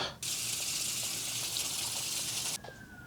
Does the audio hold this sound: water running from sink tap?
yes